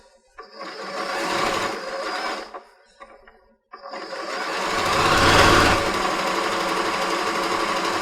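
A sewing machine whirs close and loud in two runs with a short pause between, back-stitching along the edge of fabric for a paper-pieced mini house quilt project.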